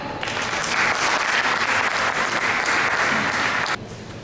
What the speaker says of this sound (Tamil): அங்கே அவருக்கான கரகோஷம்